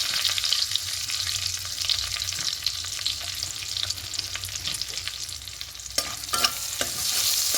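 Whole garam masala (cinnamon, cardamom, cloves), cumin, a torn bay leaf and a dried chilli frying in oil give a loud, steady, close hiss, with a few clattering stirs near the end.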